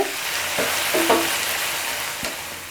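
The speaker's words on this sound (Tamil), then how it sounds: "சேர்த்துட்டு இதோடவே நல்லா வதக்கி விட்டுருங்க." Tamarind stirred and sautéed with kara chutney ingredients in a hot pan gives a close, steady frying hiss, with a few brief scraping strokes of a spatula across the pan and no talking.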